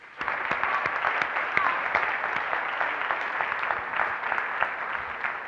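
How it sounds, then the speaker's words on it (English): Conference audience at a language teachers' plenary in Aveiro claps in sustained, even applause for several seconds, dense overlapping hand claps filling the hall, with no talk on top. "So I think we should give a round of applause to the APPI organizers."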